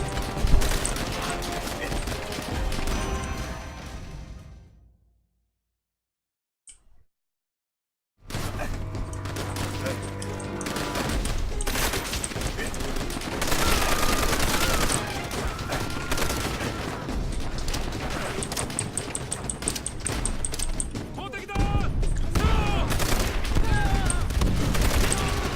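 Battle in Call of Duty: World at War, with bursts of gunfire and booming impacts crackling over a busy soundscape, broken by a few seconds of near silence before the shooting resumes louder.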